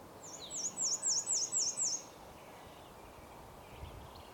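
A black-and-white warbler sings a high, squeaky series of six repeated two-part notes, clear and fairly near over a quiet outdoor background, then stops.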